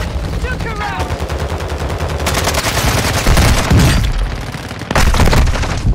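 Rapid gunfire from Call of Duty: Warzone 2 (Modern Warfare II), loud bursts of automatic fire and sharp shots with booming hits, mixed with a player's excited voice.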